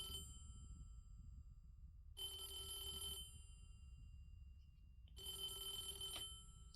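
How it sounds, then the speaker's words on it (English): An old-style telephone rings twice in the game Devotion, each ring a roughly one-second metallic bell burst separated by a pause of about two seconds, set over a faint low background hum. "Alright, let's answer the phone."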